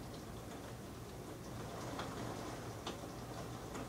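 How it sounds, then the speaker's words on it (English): Heavy rain falls outside in a steady, even wash of hiss, scattered with occasional sharper drop taps and ticks at moderate distance, with no voices. "let me just show you how badly it's raining outside right now"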